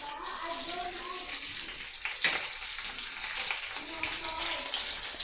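Mustard seeds, cumin and curry leaves tempering in hot oil, a dense continuous crackling sizzle with spattery bursts, close and steady throughout, alone without talk.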